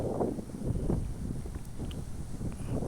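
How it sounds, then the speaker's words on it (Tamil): Strong wind blows at the seashore where the waves are high, making a steady, rough rumble of gusts across the microphone without a break, with no voices. "அலைகளும் அதிகமாக இருக்குது காற்றும் அதிகமாக இருக்குது"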